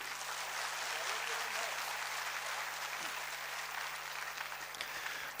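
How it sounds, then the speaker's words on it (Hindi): Audience applause fills a hall at a DXN business event in India, a steady, dense wash of clapping that runs throughout at moderate level with a faint hum beneath. "एक बार जोरदार तालियां इन सभी लोगों के लिए"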